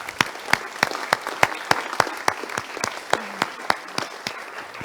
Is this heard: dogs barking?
no